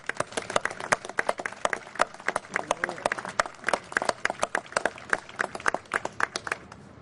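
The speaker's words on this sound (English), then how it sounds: "Can we give them a round of applause?" An audience at a press conference for the Greater Boise Auditorium District claps steadily for about seven seconds, a dense run of sharp claps from a modest crowd, fairly close and even in loudness.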